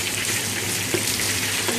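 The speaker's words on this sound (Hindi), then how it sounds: "अभी हमने इसको अच्छी तरह से भूनते जाना है" Minced beef keema fries in about half a cup of oil with a dense, continuous sizzle and soft stirring. No one talks.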